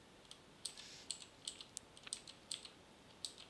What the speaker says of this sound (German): Also wenn ihr das Klacken von der Tastatur hört, das ist eine neue Tastatur.